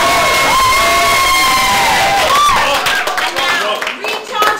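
A theater audience cheers, whoops and claps for a band after its set, a loud burst of crowd noise that swells and then thins out, with a few voices shouting over it.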